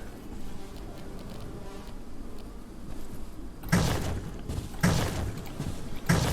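A swarm of bees drones in the video game Abiotic Factor around a player wearing a beekeeper suit. The buzzing hum is steady and continuous, broken by three louder, harsh bursts at regular intervals in the second half.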